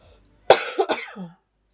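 A single loud cough bursts out close up, followed by a couple of rough throaty hacks that trail off into quiet.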